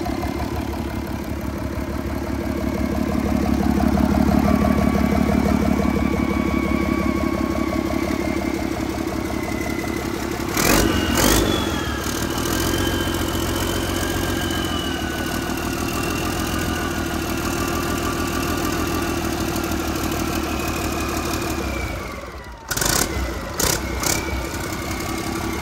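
A HOWO 420 truck engine runs on test in a workshop with a steady, loud, close idle rumble. Two brief sharp bursts of noise cut in partway through and again near the end, and no talk is heard.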